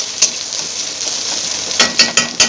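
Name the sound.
onions frying in pan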